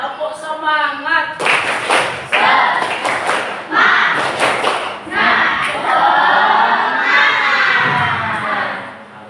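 Schoolchildren in a guidance session perform the tepuk semangat clapping chant, bursts of sharp group claps and loud shouted chanting in quick rhythmic patterns, with a voice leading at the start.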